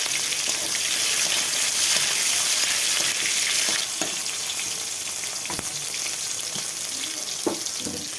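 Black cumin seeds sizzle in hot oil in a wok, a steady loud frying hiss with a few sharp crackles and pops, no voices.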